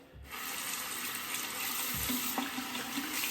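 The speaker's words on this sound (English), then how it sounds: "Now just a slight rinse." Tap water runs steadily into a sink for a quick rinse during a wet shave with an Astra safety razor, a continuous close splashing hiss with a faint clink near the end.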